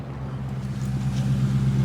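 Used car's engine idling, heard from behind the vehicle: a steady low rumbling drone with even exhaust pulses, running smoothly and fairly loud throughout.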